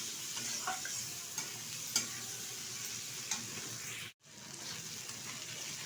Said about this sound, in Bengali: এখন এর মধ্যে দিয়ে দেবো কেটে রাখা আলু। এটা একটু নেড়ে চেড়ে নেব